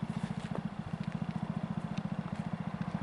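A Bolens Husky 1050 garden tractor engine idles close by with a steady, fast thumping beat and a throaty, rough exhaust pulse that stays even throughout, with no voices over it.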